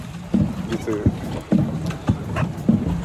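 Paddles pushing a small boat through muddy water, heard as close, rhythmic splashing strokes with wind noise and a voice talking over them.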